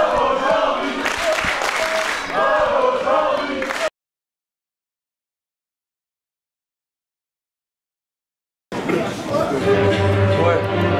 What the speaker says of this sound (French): Écoutez le public, mon cher Cyrano. Oui, je l'entends, ils applaudissent la médiocrité.